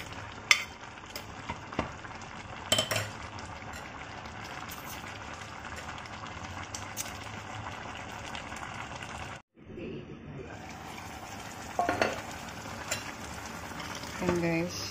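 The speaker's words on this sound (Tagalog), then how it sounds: "kumukulo-kulo na, kulong-kulo na" A pot of coconut milk vegetable stew bubbling and simmering up close, with occasional stirring clinks and a short break midway.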